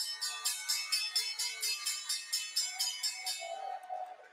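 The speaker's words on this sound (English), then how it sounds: "let's get the opening bells in the CNBC real-time exchange and the big board today" A stock exchange opening bell rings in a fast, even series of about a dozen bright metallic strikes, then stops and leaves a brief faint tone.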